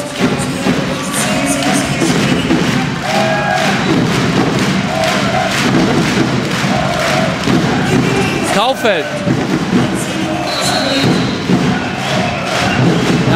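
Crowd noise fills a volleyball arena during a women's Bundesliga quarterfinal playoff, Schweriner SC against VfB Suhl, a constant cheering din with ball thuds and a commentator speaking over it.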